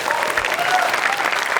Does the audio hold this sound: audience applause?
yes